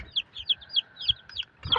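A Sweater Gilmore gamefowl rooster clucking close by in a rapid series of short, sharp clucks, about eight in quick succession, with a brief rustle at the end.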